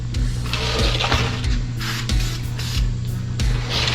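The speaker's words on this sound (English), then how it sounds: "Duplicolor Chevy orange from O'Reilly's. And this stuff sprays really, really well." Duplicolor Chevy orange spray paint hisses from an aerosol can onto a small block Chevy valve cover in several short bursts, with a steady mechanical hum underneath.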